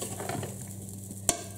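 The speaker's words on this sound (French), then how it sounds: "Je remue les pommes de terre." Potatoes cooking in a pan are stirred, with a soft sizzle and low hum underneath and two sharp utensil scrapes or clinks near the end, close and fairly quiet.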